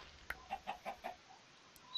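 A Minecraft chicken clucks in a quick series of about five soft, evenly spaced clucks, faint and alone against near silence.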